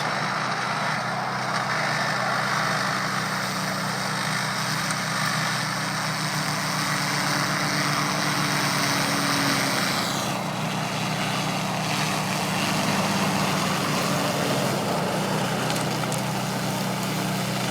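A tracked Orec flail mower runs steadily and close by, a constant low engine drone with a broad whirring roar from the flail blades that shifts in tone partway through as the machine turns.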